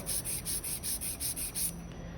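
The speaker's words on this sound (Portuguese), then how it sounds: "Posiciona a lixa reta na lateral. Deita a lixa pra dentro só um pouco e faz isso aqui em 6 vezes" A nail file rubbed against the side of a fiberglass nail in about nine quick, even back-and-forth strokes, close and crisp, then stopping.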